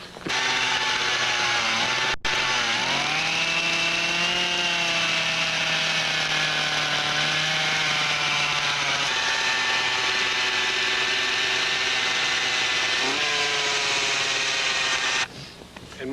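A small gas-powered tapper engine drones loudly and steadily, its pitch rising and dipping as it drills a hole in a maple tree, running for a long stretch before cutting off.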